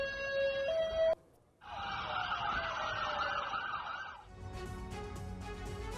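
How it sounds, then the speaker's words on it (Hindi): Emergency sirens wail in northern Israel during a Hezbollah attack, a two-tone siren cutting off briefly before another loud, wavering siren takes over, then fades into a different warbling tone. "इलाके में सुनाई दी सायरन की आवाजें।"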